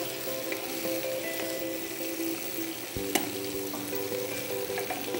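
Shrimp fry in a restaurant pan during deglazing, a dense continuous sizzle with stirring scrapes and one sharp clack midway, close and steady throughout.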